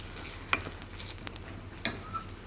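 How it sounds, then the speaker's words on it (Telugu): Onion and green chilli frying in a pan with tempering spices, giving a soft steady sizzle broken by a few sharp stirring clinks and scrapes, faint and close, with no voices. "ఇప్పుడు పోపు దినుసులు వేసుకొని ఉల్లిగడ్డ, పచ్చిమిర్చి వేసి"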